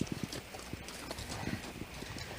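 Horses' hooves clip-clop at a walk around a ranch corral: a close, steady run of distinct hoof strikes with no talking.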